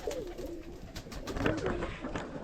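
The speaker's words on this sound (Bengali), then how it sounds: "দেখতে পাচ্ছেন কতগুলো কবুতর।" Pigeons coo at a pigeon farm, with soft, rolling, overlapping calls repeating close by over low background noise.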